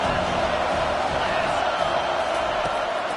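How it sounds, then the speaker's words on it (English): A stadium crowd at a college football game roars steadily on third down, a dense, sustained wall of cheering. "this crowd is tearing the lid off this place"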